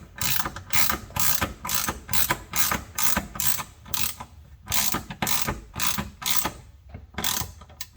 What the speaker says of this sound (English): you can go ahead and run the mounting screws for the bracket down tight